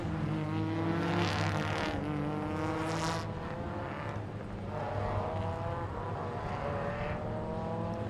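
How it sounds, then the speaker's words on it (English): Porsche Michelin Sprint Challenge race cars at Phillip Island rolling slowly around to form up on the grid, a steady layered engine drone with a slight swell in the first few seconds, heard continuously and fairly close with no talk. "Harry Tompkins, who is very slowly bringing the field around to take up position on the grid."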